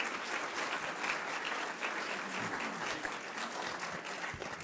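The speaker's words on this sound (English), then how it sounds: "Give these guys a round of applause." A school board meeting audience in Byron Center, Michigan gives a round of applause, steady, fairly faint clapping from a roomful of people lasting several seconds.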